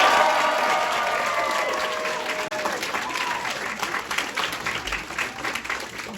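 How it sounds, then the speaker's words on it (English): Audience applause welcoming comic Minki Kim to the stage at a Cornell Pun Intended college stand-up show: dense, steady clapping from a full room that gradually thins and tapers off over several seconds. "Please put your hands together for Minki Kim."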